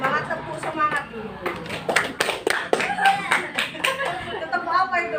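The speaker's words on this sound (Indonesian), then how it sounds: "Kalau semangat tepuk semangat dulu" A class of schoolchildren performs a rhythmic 'tepuk semangat' cheer clap, with sharp synchronized hand claps in a patterned beat alongside the children's lively group chanting and voices, close and energetic throughout.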